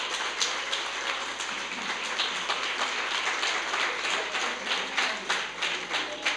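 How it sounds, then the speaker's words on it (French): A crowd applauds the newly elected children's mayor at a children's municipal council gathering in the commune of Adéane, Senegal, with dense, steady clapping that holds at a moderate level throughout, no voices above it. "Je vous demande vraiment de l'applaudir très fort."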